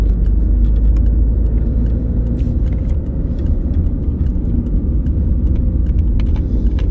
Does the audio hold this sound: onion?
no